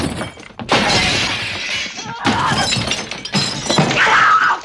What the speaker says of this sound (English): So much broken glass.